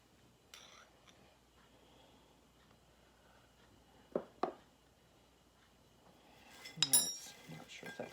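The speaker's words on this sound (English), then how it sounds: "Mix it up because we want it flavorful" A spoon mixes onions, salt, pepper and sage in a dish for a cast iron cooking challenge, giving sparse soft scrapes and then a flurry of close metallic clinks against the dish.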